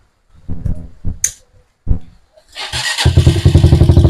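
A TMX 125 motorcycle engine is kicked over with a few sharp clicks and thumps, then catches and runs with a rapid, loud, steady putter up close.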